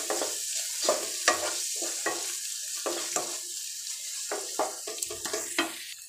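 Egg bhurji with green chili, turmeric and chili powder is stirred in a pan, a low sizzle broken by repeated scraping strokes of the spatula at an uneven rhythm, close and clear.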